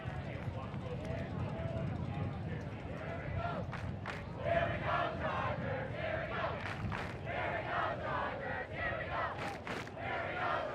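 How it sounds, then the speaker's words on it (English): Crowd noise at a high school football game, a broad continuous roar of cheering spectators with bursts of shouts, heard beneath a commentator's voice throughout. "Crowd making a lot of noise here."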